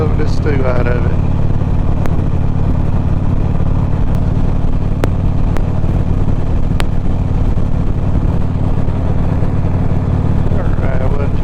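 A motorcycle engine drones low and steady throughout while riding, with someone talking over it.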